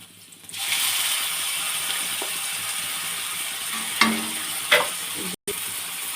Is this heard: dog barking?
no